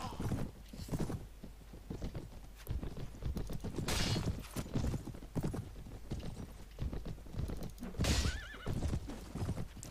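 Horses gallop through a melee battle in the Mount and Blade video game, with rapid hoofbeats, repeated neighing and clashing noise all the way through, loud and dense.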